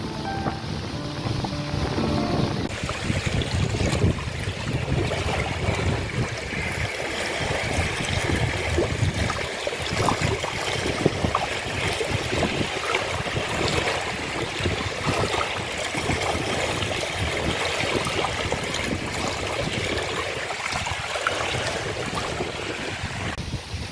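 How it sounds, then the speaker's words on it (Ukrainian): Steady wind roars across an open microphone while river waves slap and wash nearby, a continuous rushing noise with no voices. "Нічого собі, який вітер пішов. І навіть пішли хвилі."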